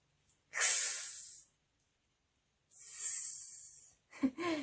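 A person's voice imitates a snake with a cat-like hiss: two long, breathy hissing bursts separated by a pause, followed by a brief voiced sound at the end.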